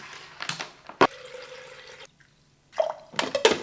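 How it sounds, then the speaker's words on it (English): A Holy Hydrogen machine running while making hydrogen water, with irregular bubbling and dripping gurgles, a sustained watery tone, a short quiet gap, then more splashy bursts. "I'll go ahead and start the machine and I'll have it running while I'm recording."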